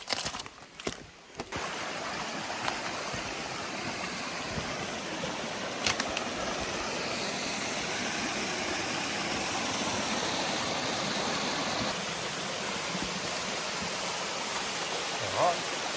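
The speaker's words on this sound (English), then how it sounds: "another nice little cascade there." A small cascade tumbles down a rocky creek in a quiet Australian national park forest, a constant, full rushing roar of falling water heard up close for the whole stretch.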